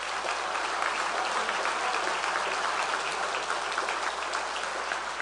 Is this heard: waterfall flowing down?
no